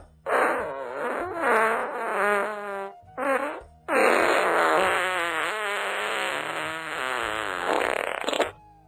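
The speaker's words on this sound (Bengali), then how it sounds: "পাদের শব্দ হলো।" A comic fart sound effect plays as a series of loud, close, buzzy blasts, several short bursts followed by one long drawn-out rasp before stopping.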